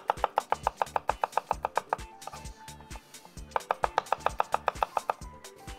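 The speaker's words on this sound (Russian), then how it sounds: "Нарежу чеснок." A knife chops garlic on a cutting board in quick, regular close strokes, two steady runs of loud taps separated by a short pause.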